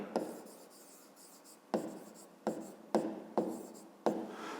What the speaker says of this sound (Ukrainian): Пишемо піщинка